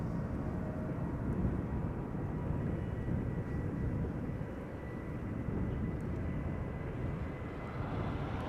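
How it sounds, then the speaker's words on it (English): A Delta Air Lines Airbus A330neo airliner takes off from runway 24 at Schiphol, a continuous loud, low jet-engine roar that holds steady and dense for the whole stretch, with no one talking. "It's going to be the first departure from the reopened runway 24."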